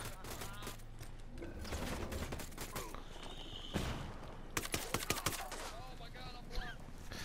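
Flashbang and gunfire in the video game Ghost Recon Wildlands, with a thump and a burst of rapid sharp shots amid dense game noise while voices talk over it.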